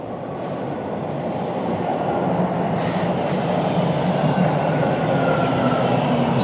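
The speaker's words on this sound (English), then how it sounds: "I guess this train will go up and turn around and come down." Subway train on a shut-down stretch of line, a steady loud rumble of rail noise with faint clattering and a brief squeal, sustained throughout with no talk.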